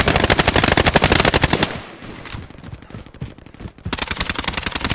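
Rapid automatic gunfire in a PS4 online shooter, loud bursts of dense repeated shots, easing to scattered distant fire in the middle before another sustained close burst.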